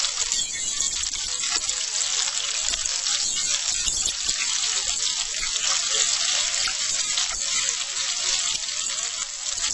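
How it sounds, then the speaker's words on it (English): Stuffed potato balls, Spanish papas rellenas, browning in hot frying oil, with a loud, dense, continuous crackling sizzle that holds steady throughout, close and unbroken. "So we really are only browning the potato balls."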